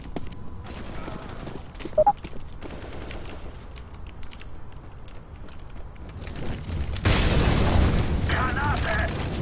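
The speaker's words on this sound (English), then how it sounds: "Deploying flashbang." A flashbang grenade goes off in Counter-Strike as a sudden, loud broadband burst about two-thirds of the way through, following scattered gunfire and game noise, with voices talking underneath.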